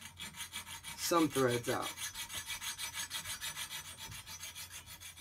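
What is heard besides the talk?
sawing through metal all-thread rod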